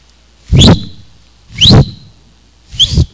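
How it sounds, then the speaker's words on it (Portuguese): A person whistles three separate bright, rising tones, each short and sliding upward, spaced about a second apart and heard close and clear with no talking. "estou assobiando ainda"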